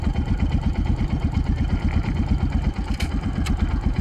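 A motorcycle engine runs close by with a rapid, even low putter that holds steady throughout. A couple of faint clicks sound near the end, and no one talks.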